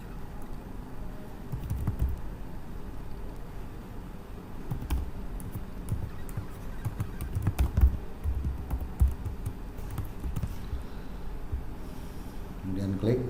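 Username and password being typed on a computer keyboard, a faint run of quick, irregular key clicks and taps with brief pauses, heard close up in a quiet room.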